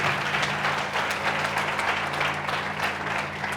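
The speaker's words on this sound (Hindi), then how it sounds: "ताली बजाएंगे यीशु मसीह के लिए।" A church congregation applauds for Jesus Christ at a Hindi-language sermon, dense sustained clapping filling the hall evenly from start to finish with no voices on top.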